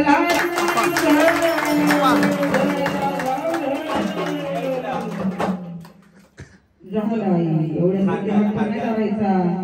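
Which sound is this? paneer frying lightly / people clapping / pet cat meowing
people clapping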